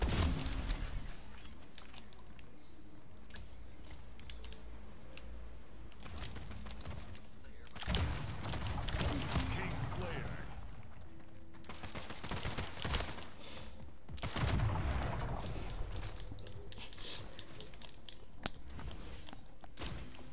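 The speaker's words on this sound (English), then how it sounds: "I hear the bullets." Gunfire in the video game Splitgate comes as repeated bursts of rapid shots, loudest in clusters near the middle and end, with clicks and footsteps between the volleys and no talk.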